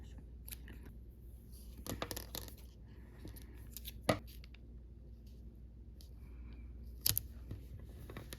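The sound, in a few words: scissors cutting bracelet strings, then taping them down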